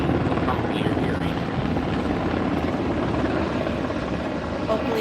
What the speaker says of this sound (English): there's a helicopter going over us now that maybe probably you're hearing